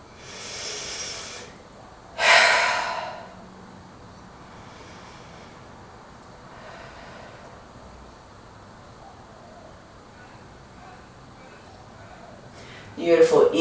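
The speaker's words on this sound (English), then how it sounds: "Big deep breath out." During a whole-body yoga session, a deep, breathy exhale gusts out close to the mic after a softer breath. Long quiet stretches follow, and another burst of breath comes at the end.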